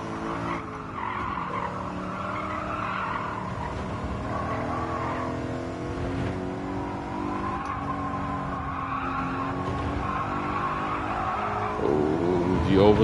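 A BMW M3 racing in Gran Turismo 7 at Autopolis, with a steady engine drone and continuous squealing tires sliding through oversteer, rising and falling over several seconds and growing louder toward the end.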